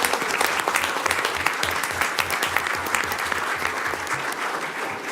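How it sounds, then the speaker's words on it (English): An audience at a school board meeting applauds a middle school Teacher of the Year, a sustained, even round of clapping from many hands filling the room. "let's give her a big round of applause as well"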